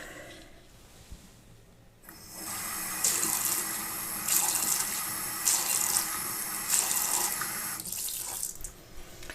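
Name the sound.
rinsing a soap dispenser test under running tap water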